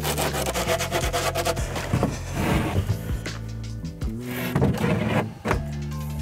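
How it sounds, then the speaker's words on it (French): A saw trims the edges of a wooden board during a car-to-mini-van conversion, making steady rasping, rubbing strokes that are close and loud, with a few pauses and no voices. "Première étape, ça va être de couper légèrement les côtés de cette planche."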